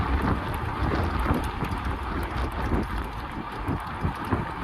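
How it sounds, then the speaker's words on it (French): Heavy wind buffeting a microphone while riding an electric scooter, a constant low roaring rumble with gusty thumps throughout, no voices. "le vent là, franchement, c'est une galère"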